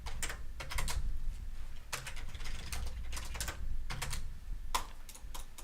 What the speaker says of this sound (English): I'm using a membrane keyboard now.